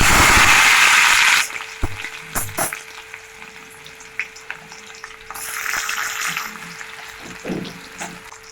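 Onion hits hot oil with a loud burst of sizzling, then settles into softer crackling frying with a few utensil clinks and stirring.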